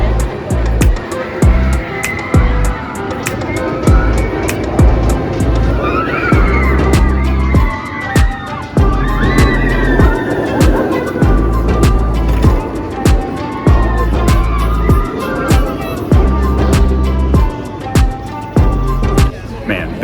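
The Banshee roller coaster at Kings Island on opening day makes a loud, sustained roar and rumble with rapid rhythmic clattering of the track throughout, heard from on board.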